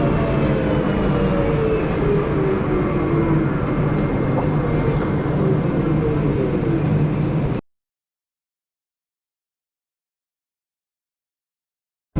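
Shuttle train at Charles de Gaulle Airport running toward the parking lot PR stop, a steady close rumble with rising whine for about seven and a half seconds, then abrupt silence.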